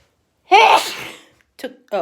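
A single loud, close sneeze bursts out, followed by a couple of short breathy sounds.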